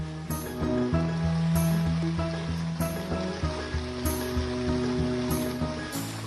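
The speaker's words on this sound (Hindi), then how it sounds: "झमाझम बारिश ने दिल्ली वालों को भिगो दिया" Heavy rain pours down over Delhi in a steady, dense hiss that fills the whole clip, with faint tonal sounds running underneath and no pauses.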